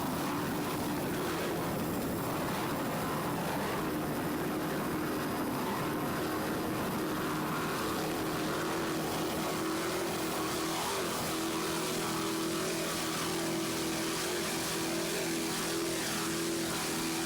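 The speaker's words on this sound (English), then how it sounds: "Just listen to those two 800 horsepower Zool racing inboards." Loud, steady roar of two 800-horsepower racing inboard engines on a powerboat, a continuous broadband drone with a low throbbing hum, no voices.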